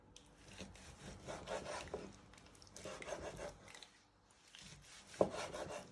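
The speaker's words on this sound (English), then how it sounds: "Always remember to move your fingers out the way when you're chopping your chicken." A knife slices raw chicken into medium pieces on a chopping board, quiet repeated rubbing, sawing strokes in short bursts with a small knock near the end. No voices are heard.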